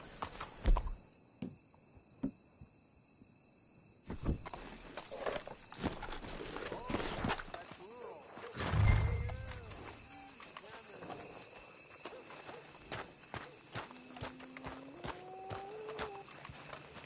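Horse hooves clip-clop in Red Dead Redemption 2, a run of soft, fairly close steps that come and go among other game sounds, with people talking at times.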